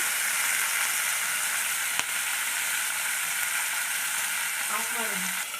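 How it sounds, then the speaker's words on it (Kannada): Marinated garlic fish frying in a kadai gives a dense, steady, loud sizzle that carries on without a break, with one brief knock partway through. "ಮ್ಯಾರಿನೇಟ್ ಮಾಡಿದ್ದೇವಲ್ಲ ಮೀನನ್ನು ಹಾಕ್ತಾ ಇದ್ದೇವೆ"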